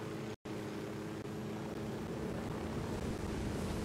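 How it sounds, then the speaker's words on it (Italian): A helicopter landing in the video game Ghost Recon Wildlands, a steady low rotor drone with a broad engine rumble, continuous and even throughout with one brief dropout near the start. "perché mi sei atterrato con un elicottero in testa?"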